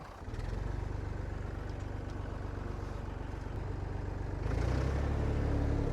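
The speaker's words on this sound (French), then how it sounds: "Et ça, j'y accroche au tracteur. Et puis on tire." A tractor engine runs steadily while dragging a log on a sling, a low rumbling drone that swells louder toward the end as more throttle is given.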